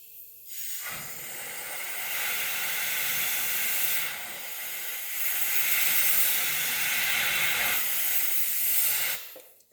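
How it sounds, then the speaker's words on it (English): Compressed air hisses steadily from a blower nozzle cleaning out a diesel sump fitting on an LBZ Duramax, several seconds of loud, broadband rush with a brief dip in the middle, alone without talk. "I'm going to take my blower nozzle, blow that out nice and light"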